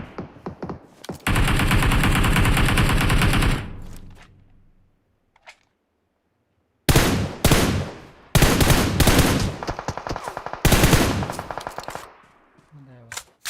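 Gunfire in the mobile game PUBG Mobile, with a long sustained automatic burst, a pause, then clusters of sharp single shots fired one at a time, close and loud.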